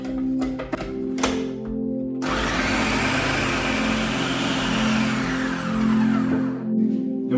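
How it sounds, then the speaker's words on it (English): Wild garlic stalks with apple cider vinegar whirring in a blender, a loud steady grinding roar that kicks in after a couple of seconds of quieter kitchen noise and runs to the end. "just basically chop these up and put them into your blender"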